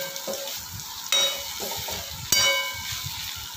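Okra and onion curry with turmeric sizzles in a pan while being stirred, a steady frying hiss broken by two sharp utensil knocks against the pan.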